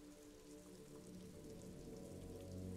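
Rain drips and patters in the video game Disco Elysium, soft scattered drops over a quiet, steady low ambient drone, faint throughout.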